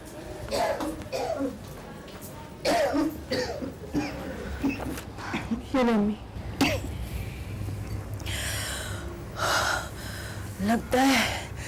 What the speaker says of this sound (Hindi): लगता है ये खांसी तो मेरी जान ही लेकर जाएगी।